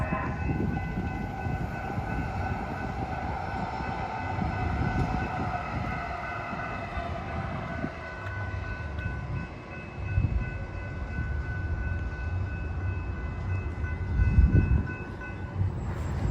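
An LA Metro K Line light rail train approaches from the north at the LAX/Metro Transit Center, rumbling steadily nearby with sustained wheel hum and tonal squeal over continuous low rumble, growing slightly louder toward the end.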